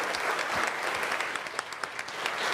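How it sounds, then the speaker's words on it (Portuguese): Congregation applauding at a Catholic charismatic seminar on salvation, a continuous bed of clapping hands with individual claps popping out, fairly close and without speech. "Vamos aplaudir aquele que é digno de glória"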